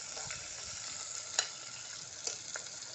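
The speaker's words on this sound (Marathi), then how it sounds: "कांदासुद्धा आता चांगला परतून घेणार आहे" Chopped onion sautéing in hot oil in a pan for chicken biryani, a steady close sizzle and hiss with a few soft stirring clicks and scrapes.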